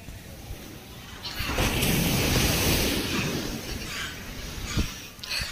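Large ocean waves wash in with a swelling surge of surf that peaks and fades, wind rushing across the microphone, with brief bumps and splashes toward the end.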